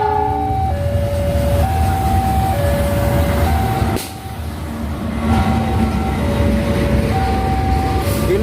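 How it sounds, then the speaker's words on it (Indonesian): A loud old passenger train from Jakarta rumbles steadily past a level crossing nearby in Bojonegoro, East Java, with a sustained multi-tone horn sounding over the rolling clatter of the cars. "Ini kereta api dari Jakarta."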